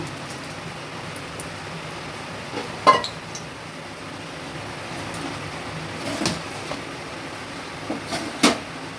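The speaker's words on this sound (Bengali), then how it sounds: "আমি একটু কড়াতে নেড়ে নিচ্ছি, যেহেতু একটু শক্ত করার জন্য।" Mashed green plantain is stirred in a wok with a little oil, a quiet scraping texture broken by a few sharp metallic clinks of a spatula against the pan.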